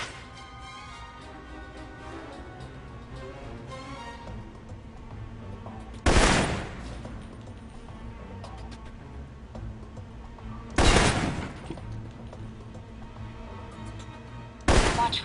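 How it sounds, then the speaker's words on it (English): Assault rifle fire in the video game Alpha Protocol: three sharp, loud broadband shots spaced several seconds apart, rising over a steady murmur of ambient game background. "For long-range encounters, the assault rifle's the key."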